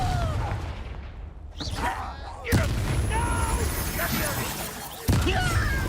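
A Confringo blasting spell goes off in Hogwarts Legacy, with sudden blasts around 2.5 and 5 seconds amid battle noise and talking voices.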